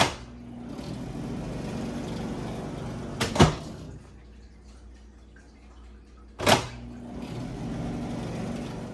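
A microwave oven with a faulty door latch microswitch, running only while its door is open, hums steadily, broken by two sharp door clicks, the hum dropping quieter between them and resuming afterward.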